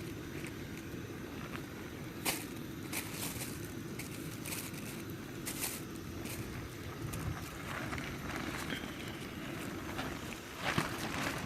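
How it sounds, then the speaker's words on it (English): Steady breeze rushes across an outdoor trail near a cabin flats hiking area, a broad continuous wind noise with gusty buffeting against the microphone and a few brief crunching clicks, no voices. "It's breezy"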